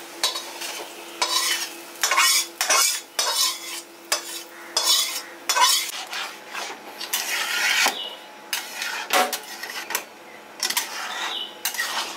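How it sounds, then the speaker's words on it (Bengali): Moong dal tipped into a ready spice masala is stirred and fried in a pan, giving repeated rasping scrapes of the spoon in bursts over a continuous sizzle, close and fairly loud, with no voices. "ডালটাকে আবার নিয়ে আমি মশলাটার মধ্যে দিয়ে দিচ্ছি।"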